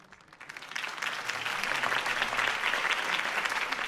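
Crowd applause in a video game follows Harvey Dent's campaign speech, swelling quickly from a quiet start into a steady, dense wash of clapping that holds at full strength without any voices over it.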